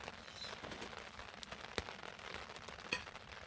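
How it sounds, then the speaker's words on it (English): Soft, steady patter of winter rain falling on a tarp, with a few sharper drops standing out against the quiet hiss. "Sounds like the rain is picking up."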